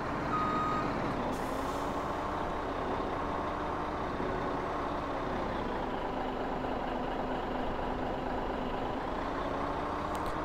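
A truck in Farming Simulator 17 rumbles steadily with a continuous engine drone and a regular reversing beep repeating throughout, alone without talk, plus a brief air-brake hiss early on.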